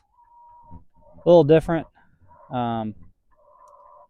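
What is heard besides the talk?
laying hens clucking at the egg mobile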